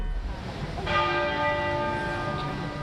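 Church bells toll across the United Kingdom at midday in solemn tribute to the Queen, a single resonant strike around the one-second mark ringing out with long sustained overtones that slowly decay.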